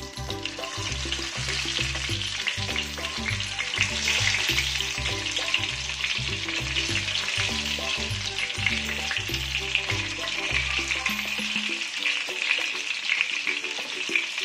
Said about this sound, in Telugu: సిమ్లో పెట్టుకొని ఈ వంకాయల్ని ఒక్కొక్కటిగా ఇందులో పరుచుకోండి